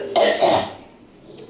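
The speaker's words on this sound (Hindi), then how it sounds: "मेरे को ना खांसी हो रही है" A woman gives a couple of harsh, close coughs, followed by a rough throat-clearing sound, heard alone without any talking.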